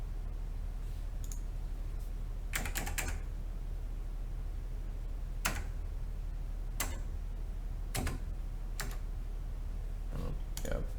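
An OmniKey 101 mechanical keyboard being tested after cleaning, with scattered sharp key clicks and short clattering bursts of several presses at a time over a faint steady hum.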